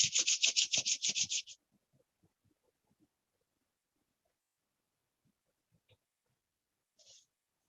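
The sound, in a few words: rubbing both hands together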